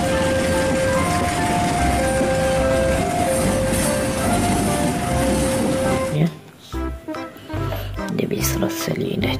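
A toy locomotive model of a CC206 Indonesian train runs with a loud, steady mechanical hum for about six seconds, then stops and gives way to scattered clicks and handling noises; no speech is evident.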